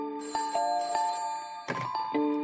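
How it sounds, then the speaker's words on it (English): A telephone rings in the middle of the night, repeated trilling bell-like tones in two bursts with a short gap between them, clear and fairly close with no talking. "on November 13th, 1974, when Joel's phone rang"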